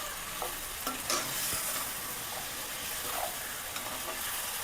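Beef perattu with bits of bone is stirred and fried in a pan, a continuous close sizzle broken by soft scraping strokes of a spoon as the liquid cooks off.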